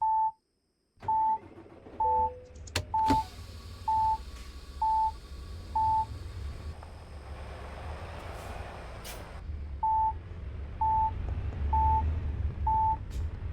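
A steady series of short electronic beeps at an even pace while the truck sleeps in American Truck Simulator, about a dozen clear tones over a low engine and ambient rumble, with a short gap partway through.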